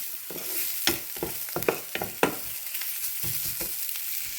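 Vegetables for kothu roti sautéing in a hot pan, a sizzling bed broken by several sharp scraping stirs of a spatula, close and fairly loud with no talk.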